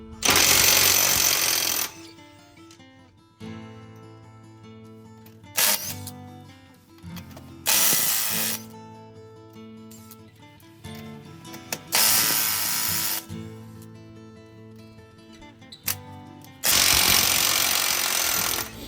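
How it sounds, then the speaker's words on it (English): An impact wrench loosens 19 mm lug nuts from a 2015 Ford Explorer wheel in several loud rattling bursts of a few seconds each, separated by quieter gaps of handling and faint background sounds. "Remove the lug nuts. It's a 19 millimeter lug nuts."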